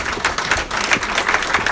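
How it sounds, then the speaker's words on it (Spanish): Church congregation applauding, a brief dense burst of many hands clapping close and loud with no voices over it. "¿No se merece un aplauso a nuestro Dios por eso,"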